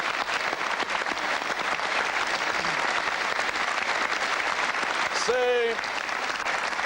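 Studio audience applauding a prize winner on a French television game show, steady dense clapping throughout, with a voice briefly speaking over it near the end.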